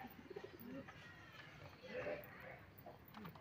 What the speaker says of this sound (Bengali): এটা আমার গিরিবাজ পায়রাটা, অনেক পুরনো পায়রা